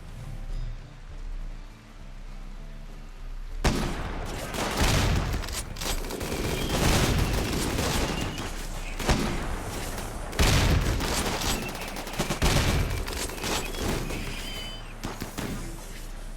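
Sustained gunfire from colonists in a Rimworld firefight, bursts of shots cracking in dense, overlapping volleys with heavier booms, loud and continuous after a quieter lead-in.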